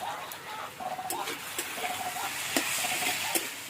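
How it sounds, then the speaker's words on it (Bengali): Chopped onion and garlic fry together in a pan for a pea dal with prawns and dried fish, a soft sizzle with light stirring clicks and scrapes, fairly quiet and close. "এবার সব কটা একসাথে ভালো করে ভেজে নেব।"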